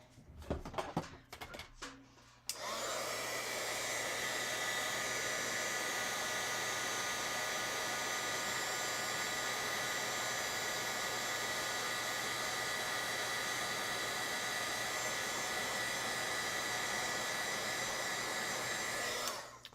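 Heat tool blowing hot air to set stamped ink on a card, a steady whooshing fan roar that switches on after a few seconds of handling clatter and runs evenly at close range until the end.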